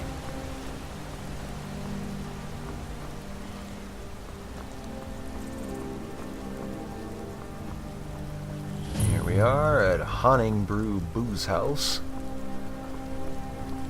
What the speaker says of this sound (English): And we're encountering some rain